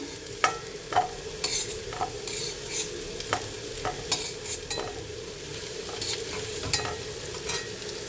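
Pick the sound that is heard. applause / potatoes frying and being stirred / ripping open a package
potatoes frying and being stirred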